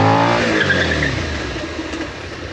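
A Suzuki SV650X motorcycle braking hard with ABS, a loud, close roar with tyre noise that slides down in pitch and fades steadily as the bike slows, with no talk.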